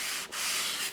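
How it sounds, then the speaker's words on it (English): A small sanding block rubs oil into the bed of a 12x36 Harbor Freight wood lathe, a loud, close, raspy scrubbing stroke with a brief pause between passes. "I take a little sanding block and I rub it in right here."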